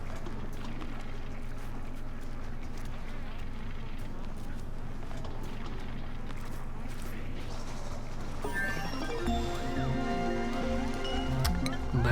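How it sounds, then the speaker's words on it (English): Research completion chime from the video game Oxygen Not Included, a bright tonal melodic cue rising out of a busy, watery colony ambience toward the end, moderately loud. "That is the sound of our research becoming complete."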